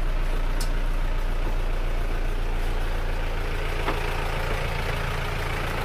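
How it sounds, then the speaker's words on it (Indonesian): Rebuilt engine idling after repair at a welding workshop, a steady, even low rumble at close range with a constant broadband hiss and no speech. "Mesin sudah hidup, suaranya empuk, halus, seperti mesin baru."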